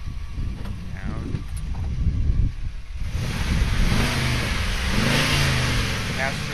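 A white 1992 Chevrolet Corvette convertible revving its engine, with throttle blips rising into a sustained rev that swells and eases, heard close by alongside some mechanical noise and a person talking nearby.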